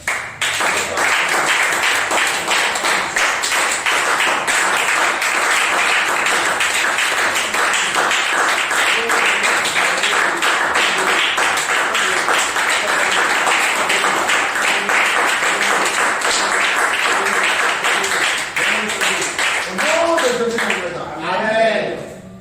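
A church congregation of the Regina Pacis community applauding and acclaiming, dense sustained clapping and cheering filling the room at a steady loud level, with voices mixed in before it tapers off near the end.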